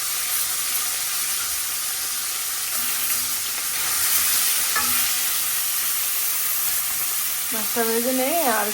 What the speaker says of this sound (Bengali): এই যে কড়াইতে তেল দিয়ে দিছি এখন এই যে মাছটা ভেজে নিব